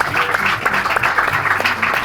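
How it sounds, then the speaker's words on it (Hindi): A crowd at an Independence Day stage event applauds loudly and steadily, a dense close clapping that continues without a break. "तो उनके लिए जोरदार तालियां"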